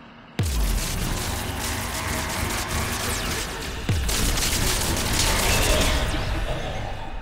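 Gunfire in the Mass Effect 3 video game: two sharp booming shots about three seconds apart, each followed by a loud, sustained rumbling roar of battle noise, with no talking.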